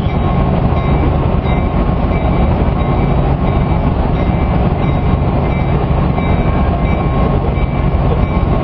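A loud, steady rumble of Union Pacific 949, an E9 diesel locomotive, rolling past on rails, a continuous roar with faint rhythmic clatter and no break.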